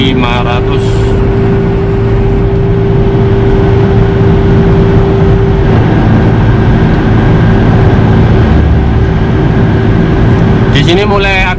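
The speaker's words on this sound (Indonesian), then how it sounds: "Di sini mulai agak-agak bising ya suara ini bannya" Steady tyre roar and wind noise inside a car cruising at 100 km/h, about 3,500 rpm, on the Trans-Java toll road with Accelera Eco Plush tyres, a loud continuous broadband drone with a faint tone under it, and a voice speaks over it.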